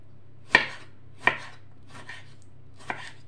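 Knife chopping big tomatoes on a board, four sharp, separate cuts spaced unevenly, close and clear in a quiet kitchen.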